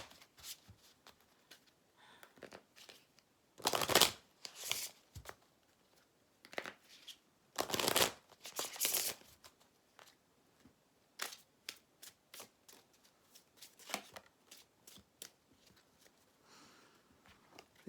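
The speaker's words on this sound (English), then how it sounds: "Let's go ahead and shuffle like this." Tarot cards being shuffled in quick riffling bursts, two longer, louder runs followed by softer scattered flicks and taps, close up with no voices.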